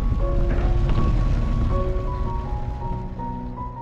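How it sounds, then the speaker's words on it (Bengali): Dense, steady hiss of heavy rain pours throughout, with faint tonal hums running underneath. "এখন হঠাৎ করে খুব জোরে বৃষ্টি নেমে গেছে।"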